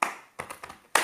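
Indonesian Pramuka scout clapping pattern: a few sharp hand claps in a quick rhythmic sequence, one louder clap opening and another closing the short burst, close and dry.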